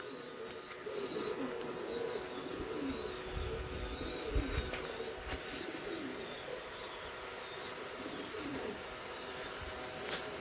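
Madras pigeons, including very young birds, coo faintly in a loft, with soft repeated chirps and low murmurs over a steady background hiss.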